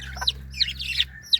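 A chicken clucks several times in quick, uneven bursts in a garden in the British Virgin Islands, close by and fairly clear against a quiet background.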